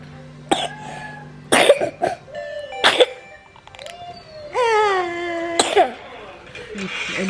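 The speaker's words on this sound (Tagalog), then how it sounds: "Ubo pa rin to siya." A sick baby with a cough and runny nose gives several sharp, close coughs spread through the clip, mixed with whimpers and fussy cries while an adult talks nearby.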